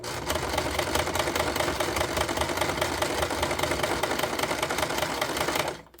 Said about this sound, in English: it obviously sews quicker because it's a bigger stitch, but it's still a little clunky sounding, so it still could use some oiling